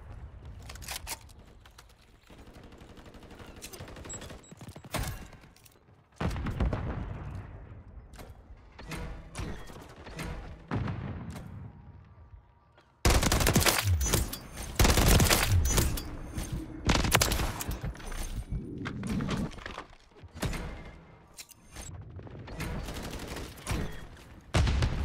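Gunfire in Call of Duty: Modern Warfare III with an SVA 545 rifle, scattered shots at first, then a loud sustained burst of rapid fire in the second half.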